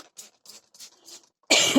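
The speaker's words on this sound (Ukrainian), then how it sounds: "зараз буду кашляти." A hard, harsh cough bursts out once at the end after a few soft, breathy sounds, close and loud.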